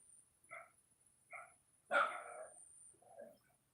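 A dog barks a few times at a distance, three or four separate barks with quiet gaps between them.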